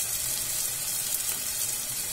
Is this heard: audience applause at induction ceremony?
no